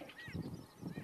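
Greater and lesser prairie chickens display at a lek, giving faint, distant hooting and cackling calls that overlap in a brief, busy chorus.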